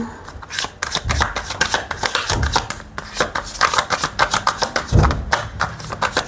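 Tarot cards are shuffled by hand close up in a quick, rapid riffling patter broken by brief pauses and soft taps as the deck is squared, with no voices.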